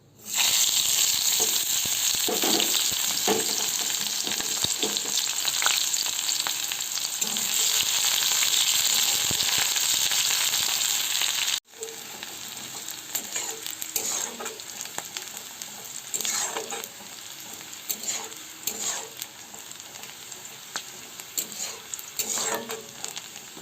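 Chopped onion frying in a pan for pasta, a steady loud sizzle with scraping stirs throughout, briefly cutting out midway before resuming at a slightly lower level with occasional clatter.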